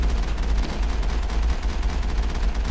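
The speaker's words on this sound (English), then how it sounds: "I don't even know what I'm shooting, but apparently I'm shooting something." Weapons fire in the Mass Effect video game, a rapid, continuous stream of loud shots with a heavy low thump running throughout, steady and unbroken with no talk.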